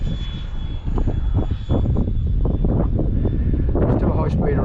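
A Sebart Fiat G-91 electric ducted-fan model jet makes a flat-out high-speed pass, a loud, continuous rushing roar mixed with gusty wind buffeting on the microphone, with a voice talking over it.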